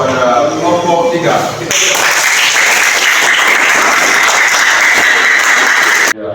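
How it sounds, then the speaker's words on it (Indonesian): A classroom audience applauds a student group after their class presentation, with loud, sustained clapping that starts abruptly and stops sharply, preceded by a teacher's voice. "kita patut untuk memberikan aplaus kepada kelompok 3"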